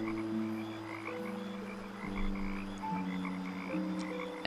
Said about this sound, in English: The sounds that you heard at the beginning of this video were frogs